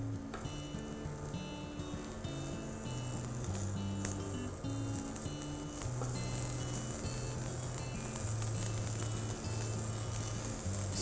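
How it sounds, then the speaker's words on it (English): Slices of beetroot sear in a hot pan, giving a steady, close sizzle with crackling and spitting that runs unbroken throughout, with no voices over it. "this is kind of searing or sealing the color of beetroot"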